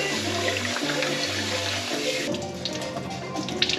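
Cold water running steadily from a kitchen tap while rice is rinsed, a continuous close splashing rush with a low hum that drops out partway, leaving the water alone.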